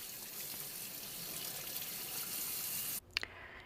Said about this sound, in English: And then I'm going to give these jars a good wash.